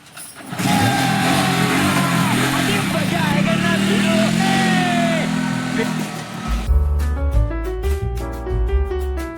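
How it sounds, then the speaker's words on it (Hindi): A car engine in a rural Awadhi comedy sketch runs loud and steady with a mid-pitched rumble, then shifts to a rougher, pulsing tone near the end. It does not catch cleanly, and voices are faintly present under it. "ना कहे स्टार्ट ना होती है हमें लागत है गड़िया बिगड़ गए"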